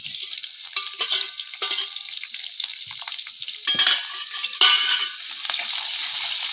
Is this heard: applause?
no